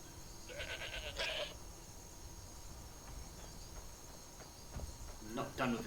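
A goat bleating in Skyrim on a farm near Rorikstead, two short wavering bleats a few seconds apart over faint background ambience with crickets, fairly quiet and mid-distance.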